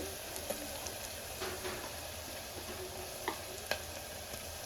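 Ginger garlic paste fries in a hot pan for a mutton curry, making a soft, steady hiss with scattered pops and a couple of sharper stirring clicks, fairly faint overall.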